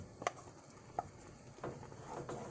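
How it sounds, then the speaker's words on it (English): A spoon scrapes and taps in a pan of General Tso sauce thickened with cornstarch, giving a few soft clinks and a faint low sizzle, quiet and close with no talking. "And then just stir it until it thickens up."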